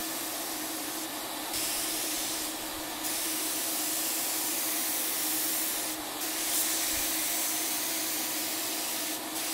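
Steady hissing spray of paint from a turbine spray gun runs continuously over a constant motor whine, with a few brief bursts interrupting it; no speech.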